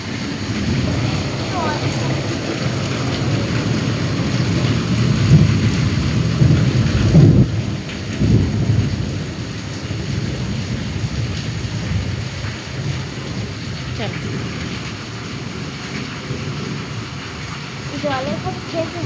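Heavy rain pours down steadily nearby, and deep thunder rolls through the middle of the stretch. Occasional voices come through under the downpour.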